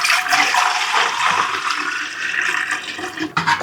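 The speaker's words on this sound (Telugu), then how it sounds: "వాటికి కావాల్సిన ఎసరుని పోస్తున్నాను." Hot water poured steadily from a vessel onto rice flour and sago, a continuous rushing splash that stays loud and close for about four seconds, alone without talk.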